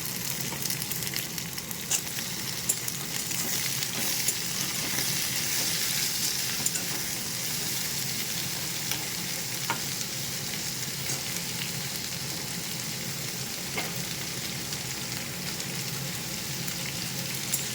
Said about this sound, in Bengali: তো সিম আলুটা ভালো করে একটু নাড়াচাড়া করে নেব, একটু ভেজে নেব ভালো করে।